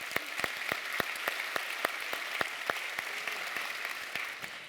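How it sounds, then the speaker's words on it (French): A conference audience at the DevFest Nantes 2021 opening keynote applauds the volunteers: crisp claps in a steady, fairly even rhythm over a broad wash of room noise, moderately quiet and without talk. "Merci de les applaudir."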